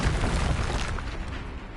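A Confringo fire-blast spell in the game Hogwarts Legacy goes off as a single loud, muffled boom, then fades over about a second without any voice.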